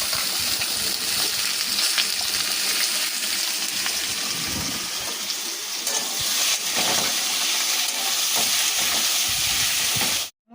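Chopped banana flower with its raw outer bracts frying in a pan, giving a loud, even sizzle and crackle that runs throughout, with brief surges of spitting oil.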